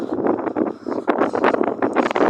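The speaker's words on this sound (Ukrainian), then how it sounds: "Капець це вітер." Strong gusty wind buffets the microphone in loud, roaring bursts.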